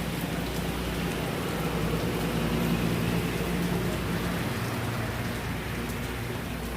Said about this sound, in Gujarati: કેવો વરસાદ છે?